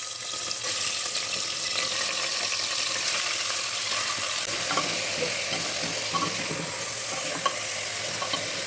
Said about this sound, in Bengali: প্রেশার কুকারে দিয়ে দিচ্ছি একটু সর্ষের তেল